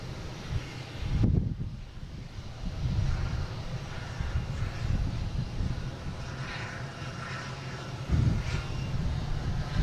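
A Bombardier Challenger business jet taxis at Boston Logan International Airport, giving a continuous low engine rumble with a couple of brief louder gusts, with no talking over it.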